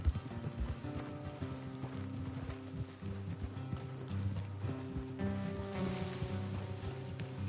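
Steady horse hooves clip-clop at a walking pace over a tonal musical backdrop in the video game Red Dead Redemption, fairly close and moderately loud, with no talking.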